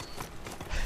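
Horse hooves clop on the ground in the Horizon Forbidden West video game, a quick faint run of irregular steps set against a soft ambient background.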